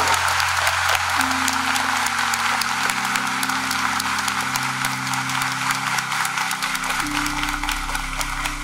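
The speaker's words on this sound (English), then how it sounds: "the man you need to applaud" Audience applause at a school prize giving and farewell assembly, a steady wash of clapping lasting several seconds over a sustained organ-like musical tone.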